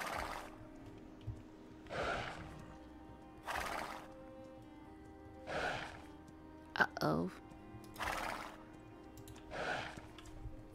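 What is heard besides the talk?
frightened horse neighing in video game Star Stable Online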